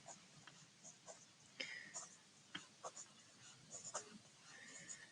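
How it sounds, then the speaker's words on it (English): A pen writing answers on paper in a journal makes soft, faint scratches and short strokes in irregular bursts, close up and quiet, with occasional breathy speech nearby. "I'm just writing them straight down the side so that I have them."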